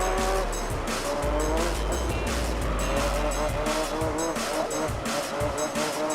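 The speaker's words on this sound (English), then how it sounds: "Hearing a car's engine for a couple hours is not exactly the most energetic thing to hear." Race car engines in the video game Gran Turismo 3: A-Spec roar continuously with tires squealing, a loud, dense, game-like mix of revving and skidding with no pauses.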